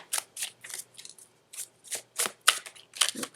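Tarot cards shuffled by hand for a reading, a run of about ten quick, crisp riffling bursts in an uneven rhythm, close and fairly loud, with no talking.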